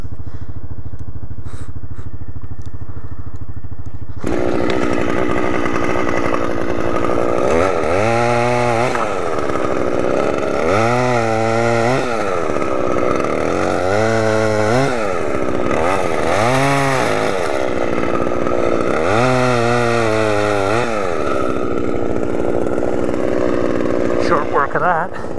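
A Husqvarna chainsaw revs and bites through wood while clearing walking trails, with repeated loud cutting bursts rising and falling over a steady close idle.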